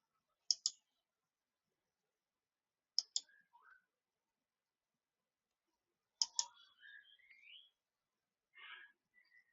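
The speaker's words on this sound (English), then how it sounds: "So we'll click 4 different" Mouse clicks placing points in solar PV design software, heard as three isolated pairs of sharp double clicks spaced a few seconds apart, each followed by faint chirpy computer tones, in an otherwise quiet room.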